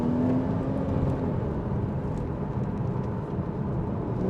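A 2013 Porsche Boxster S 981 with the 3.4 engine and PDK gearbox pulls hard under acceleration, a steady, loud engine roar with a rising tone early on, heard from inside the car without talk.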